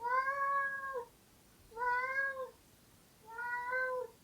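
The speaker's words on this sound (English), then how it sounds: "Tigey, please stop meowing." Three long, plaintive meows from a house cat, evenly spaced and close by, against a quiet room background with no voices.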